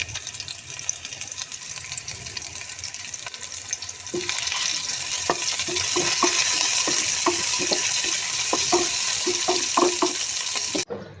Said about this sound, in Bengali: একটু জিরা ফোড়ন দিই